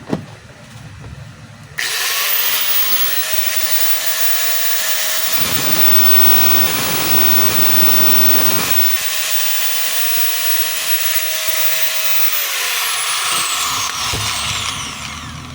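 A DeWalt DWE8100S 4-inch angle grinder with a newly replaced armature is test-run with no workpiece, giving a loud, steady, high-pitched whine that starts abruptly and holds for most of the run before cutting out.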